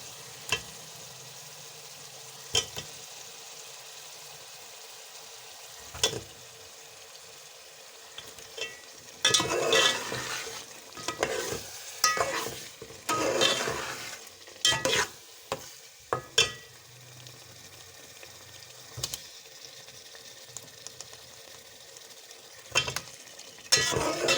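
Chicken cooking in tomato masala with ghee, a low sizzle broken by bursts of stirring and scraping in the pot, louder clattery spells in the middle, close by.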